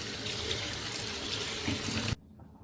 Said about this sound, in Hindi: अब इन पे हम थोड़ा ठंडा पानी डालेंगे